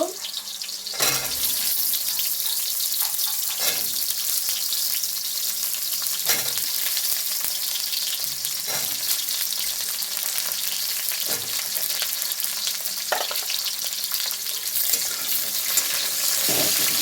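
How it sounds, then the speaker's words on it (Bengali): Pointed gourd (potol) frying in oil, a dense loud sizzle with a spatula stirring and knocking against the pan at regular intervals. "পটলটা এবার ভেজে নেব"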